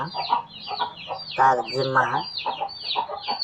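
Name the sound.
hen and chick clucking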